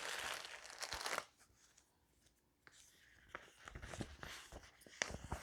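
A cross-stitch kit package, a Zelda-themed canvas, is unwrapped close up: a burst of crinkling plastic, a short quiet pause, then softer rustling and tearing with small handling taps, faint overall.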